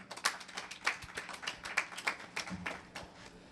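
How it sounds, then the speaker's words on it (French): Audience at a national party congress clapping in steady, close applause that fades slightly toward the end. "vous exhorter encore une fois à applaudir très fort pour le Conseil national des sages du parti"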